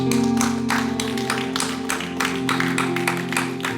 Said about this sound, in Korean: 믿음으로 하나님께 감사의 박수를 다 같이 드리겠습니다